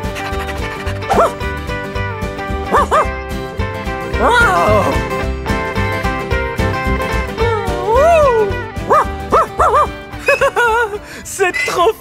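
Dogs at a ranch kennel bark and yip repeatedly in short bursts at close range, with whimpers mixed in, over a steady low background hum.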